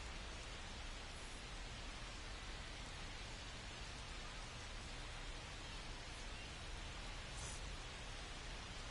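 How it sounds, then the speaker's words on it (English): Steady rain pouring over a ballpark during a weather delay in a Rockies–Athletics baseball game, a constant, even hiss of falling drops with no talk. "The rain is here, and it doesn't look like it's going away anytime soon."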